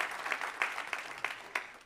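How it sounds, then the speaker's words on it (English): Audience at a GreenTech Days conference stage clapping for a speaker, faint, thin applause with a few sharper individual claps standing out in a loose rhythm. "Big applause for Mr. Otter, the director of Advantage Austria."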